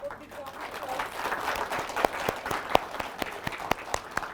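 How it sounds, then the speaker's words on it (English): Audience applause at the close of a corporate session, steady clapping building in the room with distinct sharp individual claps standing out near the end, with some voice underneath. "Can we have a big round"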